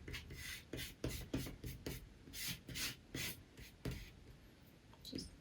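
An eraser rubbing gently over a pencil sketch on watercolor paper, a quick series of close, dry scrubbing strokes in an uneven rhythm, with no voices.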